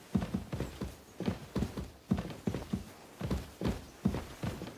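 Horse hooves clip-clop in a steady, even walking rhythm in the medieval role-playing game Kingdom Come: Deliverance II, close and clear with no voices over them.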